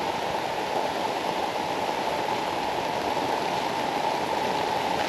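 Heavy rain pours down with running water, a steady dense hiss that holds at an even level throughout, with no voices.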